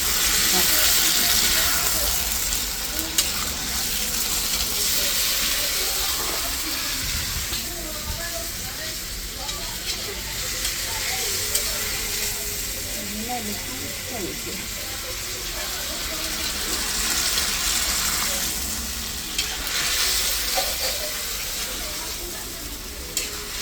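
Chicken curry sizzles and steams loudly in a pan as a little water goes in, a continuous hiss with stirring scrapes throughout, and a voice talks faintly beneath it.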